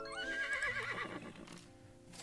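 A white horse gives a loud, drawn-out neigh with a wavering, descending whinny that fades into quieter outdoor noise.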